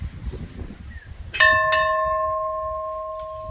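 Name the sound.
old plantation bell ringing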